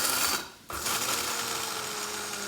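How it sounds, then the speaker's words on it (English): A coffee mill grinder whirs loudly as it grinds peanuts and sesame seeds into a fine powder, cutting out for a moment before starting again and running steadily. "we are going to make a powder in a coffee mill grinder to a fine powder"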